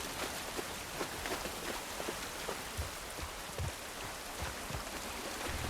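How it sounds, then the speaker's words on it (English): Steady rain falls and spatters on surfaces in The Last of Us Part I video game, a dense, even hiss with scattered heavier drops and no voices. "This rain ain't gonna do us any good."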